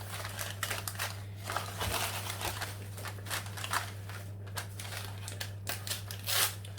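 Paper or baking parchment is torn by hand in the kitchen while lining a pie tin for a homemade chicken pie, giving a series of close, quiet crinkles and rips under a steady low hum.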